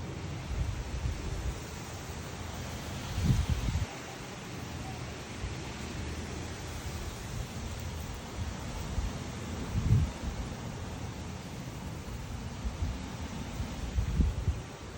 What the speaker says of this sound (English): That's probably like a 20 mile an hour gust. Maybe 25.